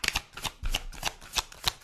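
Tarot cards are shuffled and handled close up in a quiet room, a quick run of crisp riffling bursts repeating several times with brief pauses between them.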